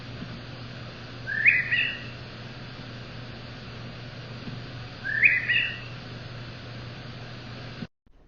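Blackbird song sounding in two short bursts of call, at about 1.5 and 5.3 seconds, over a steady low hum and faint hiss, with no voices.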